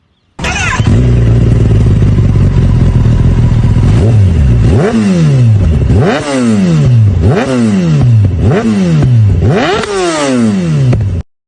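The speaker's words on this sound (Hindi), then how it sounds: "सो ये साउंड सुनिए आपकी एक्रोपोविक की ZX 10R में।" A Kawasaki ZX-10R with an Akrapovic exhaust idles loudly up close, then revs in six sharp, evenly spaced blips that each climb and fall quickly.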